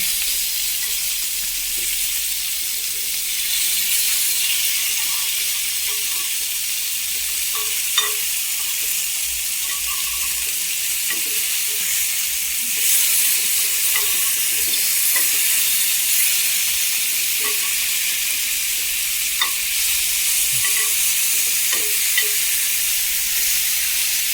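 Fish fries in hot oil in a pan, making a steady, close, unbroken sizzle and hiss that goes on at even loudness, with only faint occasional clicks and no talking.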